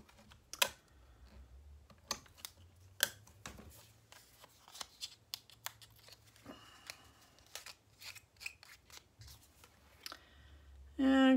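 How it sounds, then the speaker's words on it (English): Tape is pulled and run across a card for a Graphic 45 steampunk mini album, a series of sharp close clicks, rips and crinkles spaced irregularly, ending with a short burst of louder noise. "I'm just gonna run some tape across the bottom of it"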